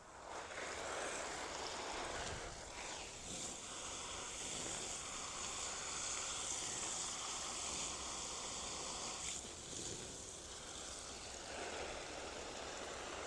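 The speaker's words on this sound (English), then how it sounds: "And let's water it in." Water pours in a steady, broad hiss for several seconds onto a freshly transplanted rose plant, soft and continuous, with faint shifts in flow.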